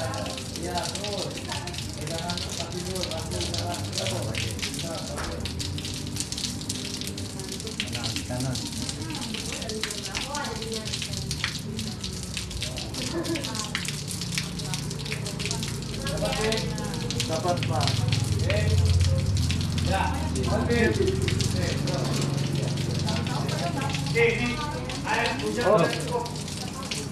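Rain falls during a commercial film shoot for an herbal product, a continuous broadband hiss that swells toward the end as people talk over it.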